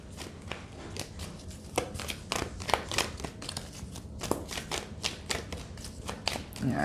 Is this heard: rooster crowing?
no